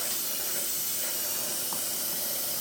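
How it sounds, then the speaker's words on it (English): An airbrush being cleaned by spraying paint out through the nozzle gives a steady, close hiss of forceful air and spray that stays even and unbroken from start to end, with no talk. "I just spray in the cup till it starts running kind of clean."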